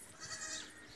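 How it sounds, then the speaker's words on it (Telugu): Goat kids bleating at a rural family home, a steady, fairly loud high-pitched wavering cry with no talk over it. "ఇక మేక పిల్లలు"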